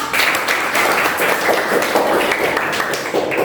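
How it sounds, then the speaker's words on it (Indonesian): A classroom of students claps together in a steady, dense patter that stays loud and even from start to finish, with no voices standing out. "kita tepuk tangan untuk semua"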